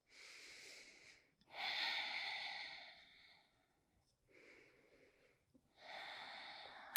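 Slow, deep yoga breaths sound close and quiet: a long airy inhale and exhale, a softer breath cycle, then another strong breath, each a broad rushing hiss with pauses between.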